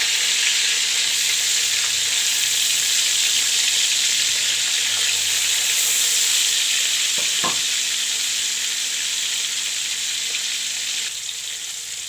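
Pieces of fish fry lightly in a hot pan for a masala fish curry, giving a continuous close-up sizzle. One or two brief scraping knocks come from stirring partway through, and the sizzle eases slightly near the end.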